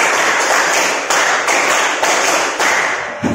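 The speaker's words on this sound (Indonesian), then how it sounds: "2 kali tepuk 5." A school classroom of ninth graders claps together in a rhythmic 'tepuk 5' pattern, sharp loud unison claps landing in a steady beat, close and dense with no talking.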